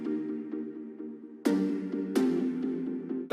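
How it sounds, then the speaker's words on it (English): Staccato synth plucks pulse in a quick, even rhythm of short chordal notes, joined midway by two bright, sharp hits that add a crashing top, close and moderately loud with no talk. "we have these staccato plucks."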